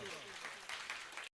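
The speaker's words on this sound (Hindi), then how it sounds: "तालियां बजा दो जोरदार।" An audience claps continuously at a live Hindu-Jain religious discourse, a dense, even patter of many hands that cuts off abruptly near the end.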